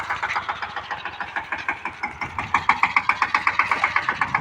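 A farm tractor engine runs nearby with a rhythmic chugging pulse that grows louder and quicker partway through, with no talk over it.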